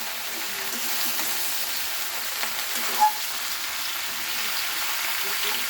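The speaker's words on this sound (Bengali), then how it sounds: "ফুলকপি আর আলু দুটোই একসাথে আমি লাল করব পেঁয়াজের সাথে" Cauliflower florets and potato pieces fry with onion in hot oil, giving a steady, even sizzle throughout with a faint clink of a utensil partway through.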